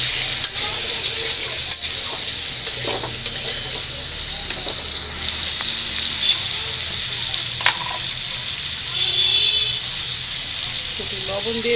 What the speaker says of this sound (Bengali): এবার আলুগুলো ভাইজে নিই।